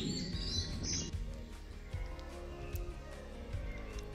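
Birds chirping and singing in dense forest vegetation, a few clear calls at moderate distance over a steady quiet background, with no talk.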